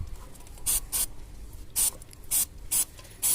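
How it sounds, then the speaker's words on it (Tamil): Six short, sharp hissing bursts of chain cleaner are sprayed onto a bicycle chain and wheel rim, evenly spaced and close. Faint ratcheting clicks from the turning wheel sit underneath in a quiet room. "செயின் க்ளீன் எடுத்துகிட்டு வீல் ரிம்மில் சும்மா ஒரு ஸ்ப்ரே"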